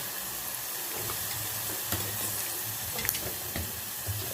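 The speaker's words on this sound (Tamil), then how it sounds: "சுண்டை வத்தல் பார்த்திங்கன்னா நல்லா பால்ஸ் மாதிரி நல்லா பொரியட்டும்" Dried turkey berries (sundakkai vathal) frying in oil, a steady, moderately quiet crackling sizzle with occasional pops and light stirring, close by and without talk.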